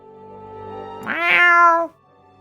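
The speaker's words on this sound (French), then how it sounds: "Donc, le chat, et vous voyez qu'il fouine un petit peu dans la pièce" A cat lets out a single loud, close meow that rises and then falls for about a second, heard clearly over a faint low background hum.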